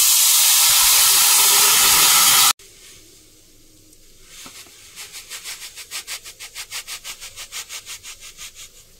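Water boils in a kadai, starting with a loud, steady rushing hiss that cuts off abruptly. A quieter stretch follows in which soft bubbling pulses rise into a regular rhythmic churning.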